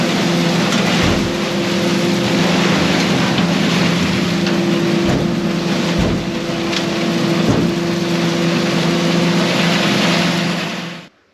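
A 1086 tractor powers a feed grinder grinding ear corn, giving a loud, steady mechanical drone with a low engine hum that runs unbroken for the whole stretch and then cuts off at the end.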